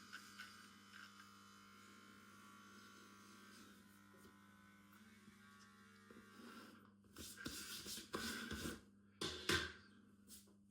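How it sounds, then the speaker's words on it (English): An electric beard trimmer gives off a steady, quiet buzzing hum at close range, then gives way to a few louder bursts of rustling and handling noise near the end. "Beard trimmer's done."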